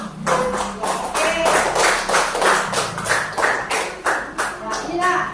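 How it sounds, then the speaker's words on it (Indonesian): Classroom applause from a class of fourth-graders, a rapid, uneven patter of many hands clapping together with voices talking over it. "Ya, tepuk tangan yang hebat."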